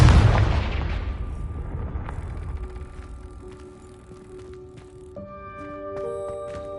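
A Confringo explosion spell in a Hogwarts video game bursts in one loud, close boom that rolls off into a long fading rumble, followed by faint ringing tones.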